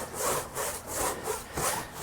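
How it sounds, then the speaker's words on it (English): Woody Wax is rubbed by hand into a boat deck's smooth rub rail areas, a close rhythmic back-and-forth rubbing with about four strokes, each swelling and fading evenly. "I'm going to take a little extra care to rub it into the"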